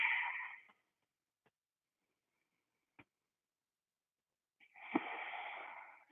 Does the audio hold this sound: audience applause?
no